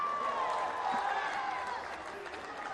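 A crowd at a cricket match roars and applauds after a six is smashed, with a continuous, dense cheer that fades slightly toward the end.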